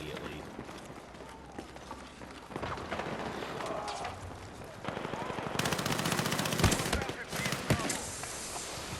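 Rapid automatic gunfire in the Battlefield 6 open beta builds from scattered shots into heavy sustained bursts, loud and close. Footsteps, game effects and background speech mix in around the shooting.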